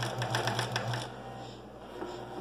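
A sewing machine stitches a short backstitch on a vest pocket with piping, a quick rapid run of mechanical clicks for about a second, then a quieter whir and faint handling noises.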